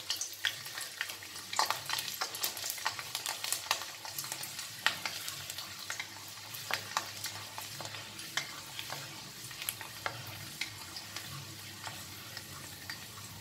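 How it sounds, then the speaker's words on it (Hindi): Garlic cloves fry in mustard oil in a pan, a continuous crackling sizzle dotted with frequent sharp pops and spatters, close and fairly steady throughout. There is no talk. "लसन में असीं थोड़ा जिहा भुन लेना है।"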